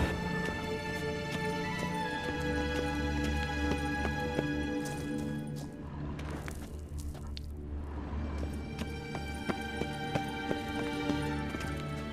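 Rapid hoofbeats of a horse in The Witcher 3: Wild Hunt clatter in a steady galloping rhythm over constant musical background, moderately loud throughout.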